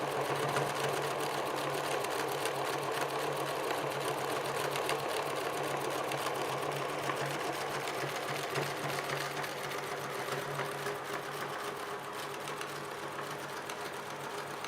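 A sewing machine runs at one constant slow speed while stitching around a circular shape, its even mechanical whir and needle chatter continuing steadily throughout without pause.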